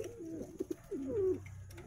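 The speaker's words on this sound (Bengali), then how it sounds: "বিভিন্ন ধরনের পায়রা আছে, ম্যাড্রাস আছে, আন্দ্রা আছে, সব ধরনেরই ভালো ভালো পায়রা আছে" Saharanpuri pigeons coo softly nearby, a few short rolling coos and gurgling notes in quick succession against a quiet background.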